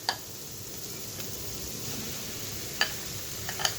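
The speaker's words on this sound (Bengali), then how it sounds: "তো ভালোভাবে নেড়ে চেড়ে নিই।" Boiled potatoes with spices are stirred in a frying pan, a faint low sizzle with soft scrapes and a few light clicks of a utensil against the pan, quiet and close.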